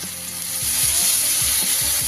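Ground spices such as turmeric, coriander and cumin sizzle and fry steadily in a pan for banana flower curry, with soft rhythmic stirring knocks beneath the continuous hiss.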